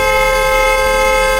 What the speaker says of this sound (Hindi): उसने तुरंत अपने पति से हॉर्न बजाने को कहा